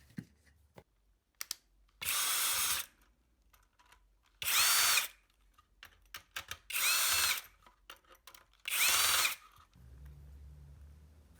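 Power screwdriver driving screws into the housing of a rechargeable solder fume extractor built from a computer cooling fan: four separate whirring bursts, each under a second, close and loud, with quiet handling clicks between and no talk.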